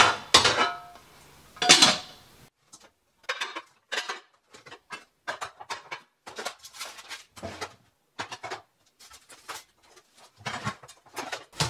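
Baking dishes and bowls with snap lids clink and knock as they are sorted in a pantry, sharp ceramic and plastic clatters arriving in scattered irregular bursts, close by, with no talking.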